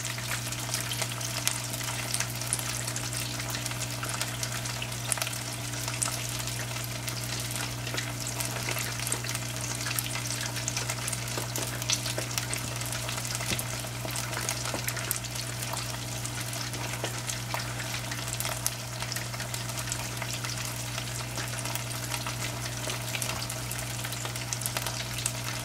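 Beer-battered catfish fries in a small home fryer, a steady close bubbling sizzle over a low constant hum with no talking.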